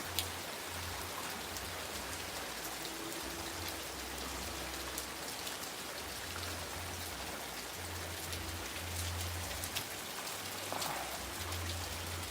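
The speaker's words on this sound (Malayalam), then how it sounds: "മഴയാണ് എന്നാലും പുറത്തോട്ട് ഇറങ്ങാം" Steady rain pours down continuously, a dense hiss of drops on surfaces with a low rumble underneath, no voices.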